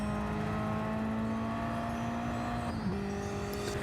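A car engine droning steadily in Gran Turismo 7, a sustained tone that holds for a few seconds, dips briefly as the revs shift, then carries on, with no talk over it.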